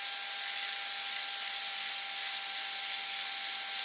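A small power drill with a 1/64 bit bores into a wooden shoehorn handle, giving a steady high-pitched whine that holds throughout at an even level.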